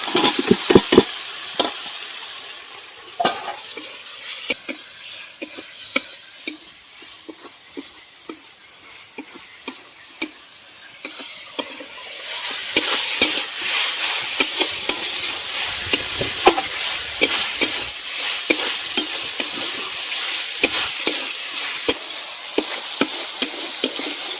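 Fried potatoes go into spiced masala frying in oil for a fish curry, with soft sizzling and repeated sharp spatula scrapes and stirs that grow busier and louder in the second half.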